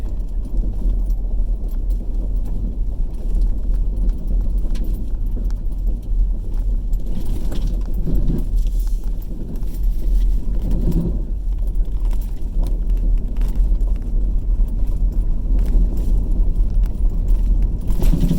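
A vehicle rolls along a bumpy back road in rural Speedwell, Tennessee, with steady low road rumble, rattles and jangling from the cabin, and irregular thumps as the wheels hit ruts.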